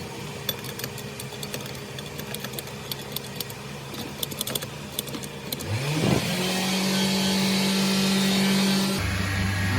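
A 2003 Honda CR-V engine with a surging idle fault runs under scattered clicks, then rises and holds a steady, close hum at 3,000 RPM.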